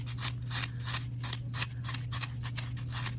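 A pencil carving into floral foam makes rapid scratchy crunching scrapes in an uneven rhythm, close and crisp over a low steady hum, with no talk.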